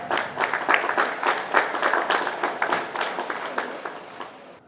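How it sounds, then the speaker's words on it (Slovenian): Audience applause for a category winner at a local awards ceremony in Ormož, steady dense clapping from a crowd that holds for several seconds before gradually thinning out. "Ja, še enkrat aplavz za zmagovalca te kategorije."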